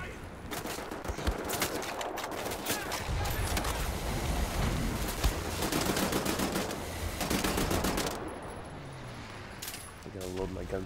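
Gunfire in Wolfenstein The New Order crackles in repeated bursts of rapid automatic shots, loud and close, with metallic clinks and a person talking over parts of it.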